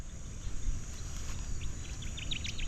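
Birds chirp outside a parked campervan, a few faint high calls becoming more frequent toward the end over a quiet, steady background hiss.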